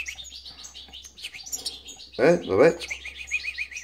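Goldfinch hybrid in an aviary chirps and twitters continuously in quick high notes, close by, while a person speaks briefly over it midway.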